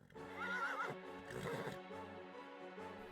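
A horse whinnies in a long, wavering call near the start, followed by lower snorting and nickering sounds that continue to the end with no talking.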